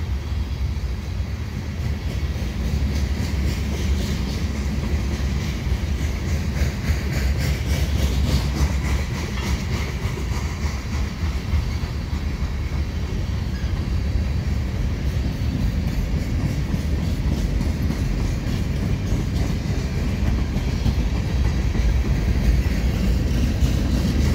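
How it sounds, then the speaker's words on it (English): A CP mixed freight train rolls eastbound toward a rail yard, its cars rumbling and clacking steadily over the rails at close range for the whole stretch, with a constant low engine drone underneath. "So this is all mixed freight. it will be heading into St. Luc Yard."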